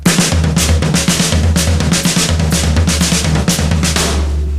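Fast, dense drum pattern with rapid tom and snare hits blending over sustained cymbal wash, played loud and continuous without pause.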